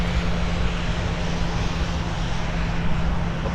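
Delta Airbus A330 jet arriving at Minneapolis–Saint Paul airport, a loud steady engine roar filling the whole stretch with broad rushing noise, close and unbroken, no voices.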